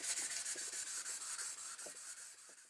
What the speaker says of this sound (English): Finished up with the wet sanding.